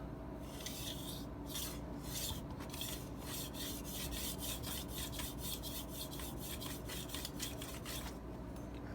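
A knife is honed on a fine 8000 grit whetstone, giving a long run of close, steady rasping strokes in an even back-and-forth rhythm, with no talking.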